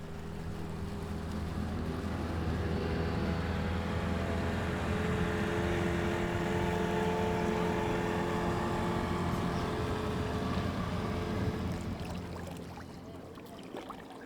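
A motorboat engine drones steadily on a lagoon at night in Makoko, Nigeria, a continuous humming rumble with a low steady tone that holds throughout, then eases slightly near the end.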